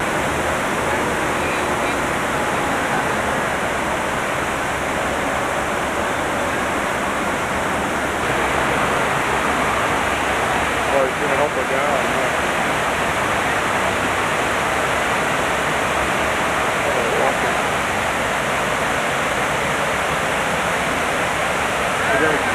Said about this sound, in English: As we walk under the fountain, I won't be able to talk to you because the noise of the water is